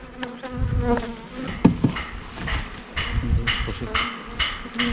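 Honeybees buzzing around a beehive during hive work, a close, dense hum of many wings with individual bees droning past and fluctuating in loudness, plus faint handling noises.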